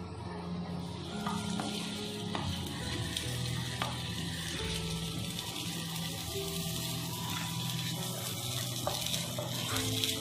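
Curry leaves fry and sizzle in hot oil in a pan while Chettinad chicken is being made, giving a steady crackling hiss with occasional stirring scrapes, close and fairly quiet.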